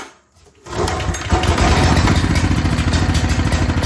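A choked generator with a newly replaced pull rope sputters after a quiet pull, then catches and roars into a loud, steady, close running idle.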